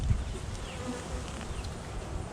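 Honeybees swarming around an open, queenless hive, a dense, close, continuous buzzing hum with no voices.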